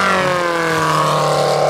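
A radial engine on an RC model airplane runs close by, a loud, steady buzzing drone with a slight rise in pitch over the short stretch.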